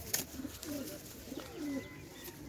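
Pigeons coo in a pet-pigeon setting, the birds being Pakistani Golden pigeons with young among them; soft, low, wavering coos come in a few short phrases, close by, with no voices over them.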